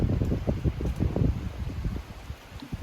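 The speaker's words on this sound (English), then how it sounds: "It's still pretty windy out" Gusty wind buffets the microphone with low rumbling bursts, irregular and close, no voices present.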